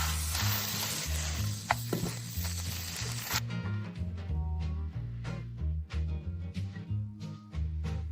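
Cucumber dish ingredients sizzle in a hot pan as they are stirred, a loud hiss at first that then fades into quieter frying crackles over a low background hum.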